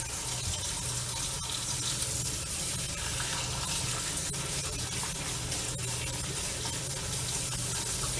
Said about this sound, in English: run them under cold water for as long as you cooked them